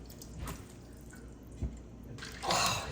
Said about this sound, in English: let's take out the cold noodles up here and put in a strainer